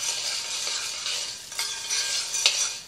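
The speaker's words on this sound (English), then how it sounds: "Right here, I'm working on melting the semi-sweet chocolate." A utensil stirs semi-sweet chocolate as it melts, giving soft scraping and swishing strokes with a few sharper clinks against the bowl, close and continuous, with no voices.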